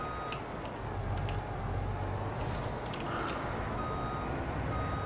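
Reversing beeps from a farm vehicle in Farming Simulator 22, heard faintly and steadily over a loud continuous engine drone, with no talking.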